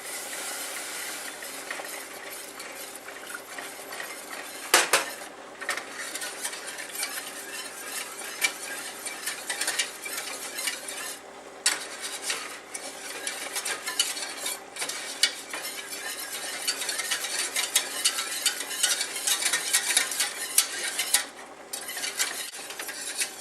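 A spoon stirs milk into a cheese sauce in a pot for mac and cheese, giving a continuous soft scraping and swishing with small clinks, close and moderately quiet, no voices.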